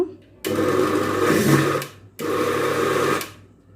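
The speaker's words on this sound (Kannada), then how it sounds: "ಈಗ ಒಂದು ಮಿಕ್ಸಿ ಜಾರಿಗೆ ನೆನೆಸಿಟ್ಕೊಂಡಿರುವಂತಹ ಅಕ್ಕಿಯನ್ನು ಹಾಕಿ ಅದರ ಜೊತೆಗೆ 2 ಸ್ಪೂನ್ ಅನ್ನವನ್ನು ಹಾಕಿ ಗ್ರೈಂಡ್ ಮಾಡ್ಕೊಳ್ಳೋಣ" A kitchen mixer grinder grinds soaked rice with coconut in a jar, two loud close bursts of whirring motor noise separated by a short pause, with no talk over it.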